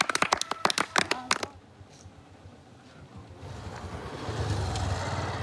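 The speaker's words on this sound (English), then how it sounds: "Can you clap for him?" A brief burst of sharp hand claps from an audience for a speaker, close and crisp for about a second and a half, then fading into quiet room noise and a low rumble.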